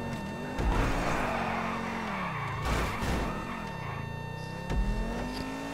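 Car engine revving in Grand Theft Auto 5 Online, the pitch sweeping up and down through several loud, close pulls with a brief drop between them, and no talking over it.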